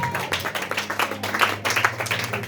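A church congregation clapping and applauding during a worship vigil, a steady burst of many hands close by over a low hum.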